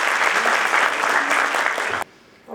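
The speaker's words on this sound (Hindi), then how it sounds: "में एक बार जोरदार ताली हो जाए" Loud, dense applause from an audience at a Malvi book event, holding steady for about two seconds and then stopping abruptly.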